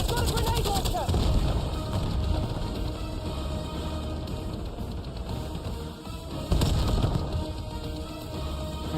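Gunfire and grenade launcher blasts in the video game Black Ops 7: loud, dense, continuous battle noise with sharp repeated shots and heavy booms, surging again near the end.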